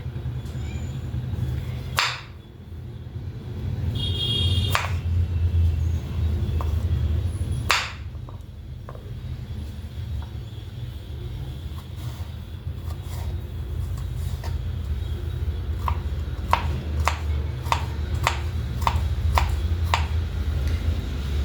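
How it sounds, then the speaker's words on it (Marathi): A knife cuts peeled fresh turmeric root into small pieces for pickle on a board, producing sharp, sparse clicks at first, then a quicker run of rhythmic taps near the end, heard alone and fairly close. "आता आपल्याला हळद कट करून घ्यायची आहे अगदी बारीक बारीक पीसमध्ये"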